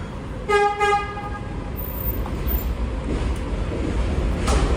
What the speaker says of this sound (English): I'm gonna get the 1 train right from here.